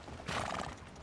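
A horse in Red Dead Redemption 2 gallops with rapid clip-clopping hooves and neighs, a brief, fairly close burst heard on its own without talk.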